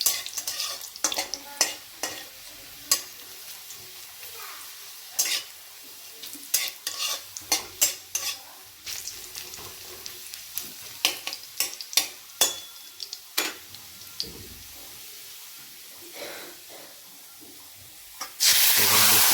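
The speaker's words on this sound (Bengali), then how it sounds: "লঙ্কা, পাকা লঙ্কা ভালো করে ওটা ভেজে নিতে হবে তেলে।" Ripe chillies and onion fry in hot oil in a pan, giving a continuous sizzle broken by frequent sharp scrapes and clacks of a spatula stirring. The sound is close and fairly loud, with no talk.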